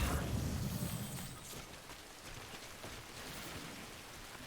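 Rain falls in the video game Death Stranding as a soft, continuous hiss of drops hitting surfaces. It is faint and even, and slightly heavier at the start.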